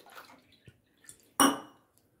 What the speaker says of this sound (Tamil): அந்த கிண்ணத்திலே தண்ணிய வந்து 1க்கு 2 பங்கு ஊத்துறோம்.